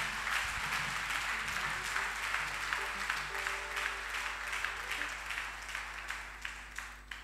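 A church congregation applauding during a service, sustained clapping from many hands that stays steady and slowly thins toward the end, with a faint voice underneath.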